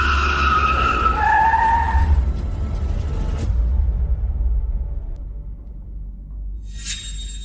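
A car's tires squeal loudly as it speeds off, a rising screech over a rumbling engine that fades after a few seconds, followed by a brief sharp noise near the end.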